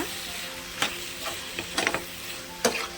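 A pan of ridge gourd and tomato curry simmering quietly, with soft steady bubbling and sizzle plus a few brief clicks and scrapes of stirring, faint and close with no one talking.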